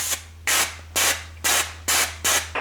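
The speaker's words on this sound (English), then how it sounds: "The way it sprays, I find a little erratic" Schwarzkopf Root Touch Up hair spray sprays in five short, hissing bursts at a regular rhythm, each about a quarter second long, close and fairly loud.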